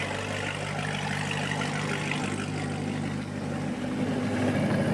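Steady low rumble of a Corvette C7 V8 idling after a cold start, a continuous even drone with no talk over it.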